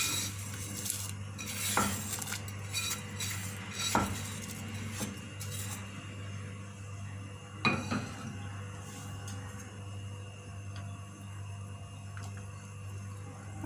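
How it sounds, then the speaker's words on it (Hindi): Vermicelli simmers in sweetened milk with fried dry fruits while a spoon stirs the pot, giving faint scraping and clinks against the metal over a low steady hum, with a few sharper knocks. "अब इसको दरमियान दरमियान में हिलाते रहना है"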